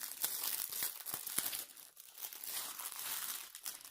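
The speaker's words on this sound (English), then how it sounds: "sorry about the crinkling" Plastic packaging crinkles and crackles steadily while a diamond painting kit is unbagged, with sharp close crackles in the first seconds settling into softer continuous rustling.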